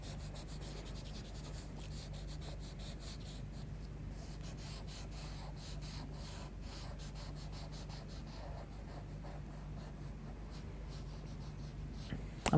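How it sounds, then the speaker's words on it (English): A paper stump blends charcoal on drawing paper in a quiet room, a soft continuous scratchy rubbing with rhythmic back-and-forth strokes, close and faint, ending in a small knock. "pick up a paper stump and just start blending that colour in together"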